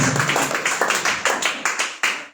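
Applause from a church congregation, a run of strong rhythmic claps close by that keeps a steady beat and then stops abruptly.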